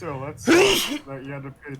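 A single sharp sneeze bursts out between stretches of casual conversation, loud and close, with talking right before and after.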